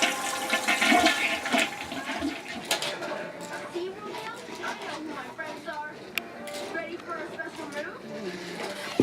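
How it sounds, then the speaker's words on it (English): A toy flush effect on a Disney Baby Mickey Mouse potty plays with a busy mix of whooshing and jingling tones, while a child and an adult talk over it in a home setting. "He likes flushing though."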